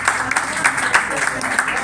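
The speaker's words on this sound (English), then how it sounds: "A round of applause, please." Applause from a church congregation during a ministry celebration service in Seoul, a brief, steady patter of clapping with some voices mixed in.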